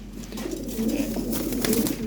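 Lahori Shirazi pigeons coo in a steady, continuous murmur of low throaty calls, several birds close by at moderate volume with no talk over them.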